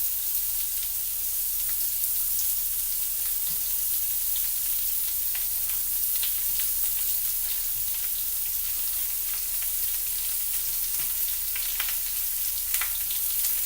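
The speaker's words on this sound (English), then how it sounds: "we're going to go ahead and put the onions in there. Make sure they're kind of spread out." Onions spread out in a hot pan for a burger fry with a steady, dense sizzle throughout, close and constant, with scattered faint pops and no speech over it.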